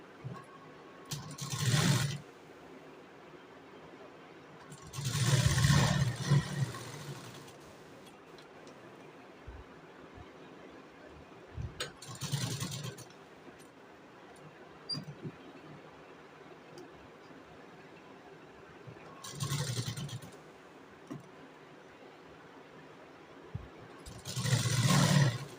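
A sewing machine stitching a blouse sleeve runs in about five short bursts separated by quiet pauses, each burst a close, buzzing mechanical whir.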